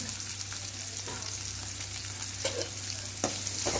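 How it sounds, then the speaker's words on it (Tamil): Finely chopped medium onion fries in a pan for Chettinad bitter gourd tamarind curry, a soft, even sizzle over a low hum, broken by a few scraping stirs of the spoon. "வெங்காயம் சேர்த்துட்டு நல்லா கிளறி விடுங்க"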